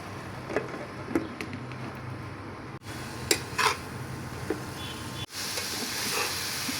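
A lid is set back onto a pot of cooking greens in a vegetarian kitchen, with light metallic clinks over a low simmering hiss and two abrupt covering thuds that muffle the sound.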